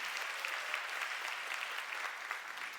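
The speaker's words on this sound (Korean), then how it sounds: "박수 한번 주시죠." Audience at a church retreat gathering applauding, a steady wash of many hands clapping at moderate distance, sustained evenly for the whole stretch without speech.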